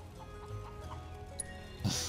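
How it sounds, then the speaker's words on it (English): Chickens clucking softly in Final Fantasy 7 Rebirth's Gongaga region, a few faint scattered clucks over a low game ambience, ending in a brief louder flutter. "I can't keep up with a flock of chickens."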